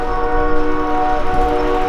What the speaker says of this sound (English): I hear a train in the background.